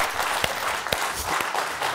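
Studio audience applauding at a Georgian comedy game show after a contestant wins 200 lari, a steady dense patter of many hands with a few sharper claps, fairly close.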